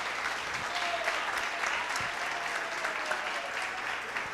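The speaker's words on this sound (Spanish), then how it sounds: "yo creo que se merece un aplauso el compañero Javier Andrade." Audience clapping for a speaker at a talk on public administration in Colombia, steady and moderately distant, sustained applause without pause.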